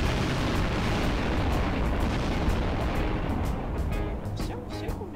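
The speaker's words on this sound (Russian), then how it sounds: "Улетайте далеко, потому что бомбы реально мощные." Powerful bomb explosions in the video game Garry's Mod roar as a dense continuous rumble, loud and close, with smaller bursts and crackles near the end.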